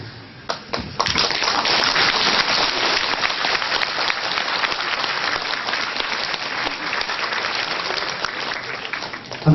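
A university lecture audience at Zhejiang University claps in sustained, dense applause for nearly ten seconds. The sound is a steady wash of many hands, with a few sharper claps at the start.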